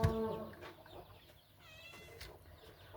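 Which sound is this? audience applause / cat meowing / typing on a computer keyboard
cat meowing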